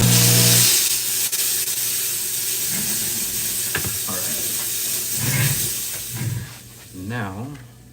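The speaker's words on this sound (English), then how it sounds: "I'm gonna go steam this and get all that gross stuff off." A jewelry steam cleaner blasts a dirty gold ring with a loud continuous hiss at first, then the spray continues in shorter bursts while a person talks over it.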